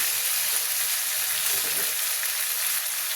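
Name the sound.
potatoes frying in pan with ginger-garlic spice paste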